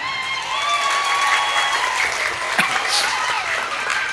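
An audience at a humorous Sundanese Islamic sermon breaks into sustained applause, a dense crackle of many hands clapping steadily throughout with faint crowd murmur underneath.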